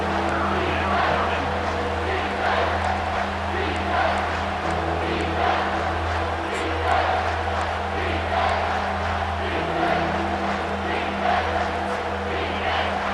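Home crowd in the College Football 25 video game roars as the defense faces third down, a dense, steady wash of cheering with a low rumble that holds throughout.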